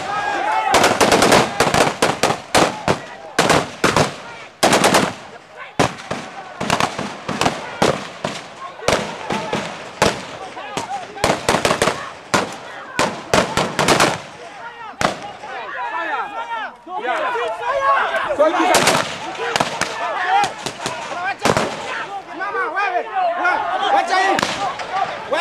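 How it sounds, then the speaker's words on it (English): Rapid bursts of loud police gunfire crack repeatedly at a primary election vote in Bukedea, Uganda, in dense volleys and scattered single shots, amid shouting and commotion from a crowd. "Police responded with live gunfire."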